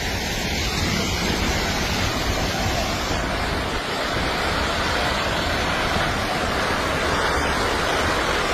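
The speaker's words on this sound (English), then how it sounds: "The sound of this landslide is so intense that it reminds me of a raging river." A landslide makes a dense, continuous roaring rush that fills the air, steady and powerful like churning floodwater, with no pauses and no voices.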